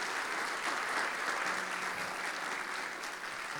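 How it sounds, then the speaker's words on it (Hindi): A church congregation applauds in steady, dense clapping that carries evenly through the clip, heard somewhat distantly and without voices over it. "जोरदार तालियां खुदावंद यीशु मसीह के लिए"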